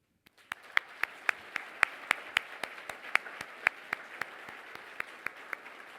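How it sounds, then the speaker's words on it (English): At an awards ceremony, regularly spaced sharp hand claps ring out, sparse and rhythmic rather than a dense wash, over a low background murmur. "Join me in offering him yet another hand clap of praise, thanksgiving, and gratitude"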